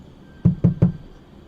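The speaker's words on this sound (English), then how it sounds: "He went to the little pig's house and knocked on the door." Three firm knocks on a wooden door in quick, even succession, close and clear against a quiet background.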